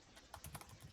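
Typing on a computer keyboard, a quick run of soft clicky keystrokes, faint and close, with no talking.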